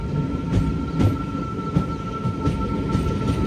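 The Narsapur Express rumbles at Palakollu railway station, its last stop, with a steady low drone broken by rhythmic wheel clacks and faint squeals.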